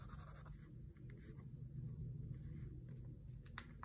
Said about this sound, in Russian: И зеленым карандашом просто обведу, чтобы это было аккуратно и красиво.